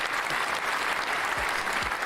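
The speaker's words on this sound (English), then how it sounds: "So round of applause once again for Scuba Steve" A podcast audience gives a round of applause for a guest: dense, steady clapping from a small group, fairly loud and continuous, with no voices over it.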